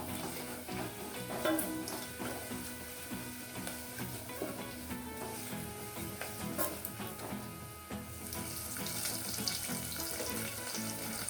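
Rasam powder fries in oil in a pan, giving a steady, faint, continuous sizzle that runs throughout with no talking.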